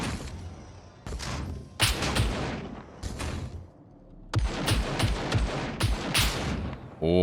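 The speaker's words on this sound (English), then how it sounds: "They're shooting through the walls!" Gunfire punches through walls in the SCUM survival video game: close, sharp shots in irregular bursts and quick volleys, with thuds of impacts and short pauses between them.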